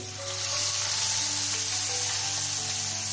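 Hot tempering of cumin, a pinch of asafoetida and ten to twelve curry leaves hits a sweet-sour raw mango curry, giving a loud, steady sizzle that holds throughout with no talk.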